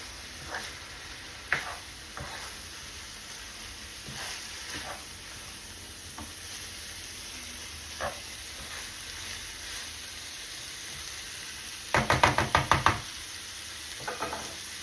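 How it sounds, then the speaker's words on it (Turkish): Zucchini dolma filling of rice and other ingredients stirred in a hot pan, a steady sizzle running throughout with scattered soft scrapes and knocks of the spoon, and a burst of quick clattering stirs near the end. "Ve karıştıralım arkadaşlar."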